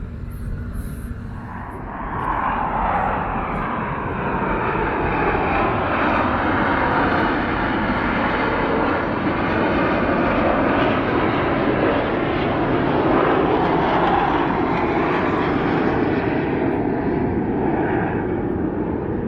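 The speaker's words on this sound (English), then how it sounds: "There goes the Blue Angels, huh? You can hear the noise." Blue Angels jets flying overhead near a Navy ship during a summer Seafair event, a loud, broad roar that swells after a couple of seconds and holds steadily, sweeping slowly as the aircraft pass.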